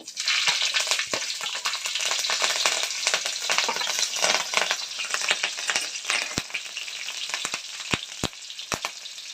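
Green chillies hit hot oil in a pan, a loud, bright crackling sizzle that gradually settles to a steadier fry, with a few sharp pops and utensil taps toward the end.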